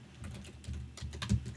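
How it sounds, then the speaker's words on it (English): A short burst of quick keystrokes on a computer keyboard as a command is typed into a network device's command line, close and steady with no talking. "So let's type help topic interfaces."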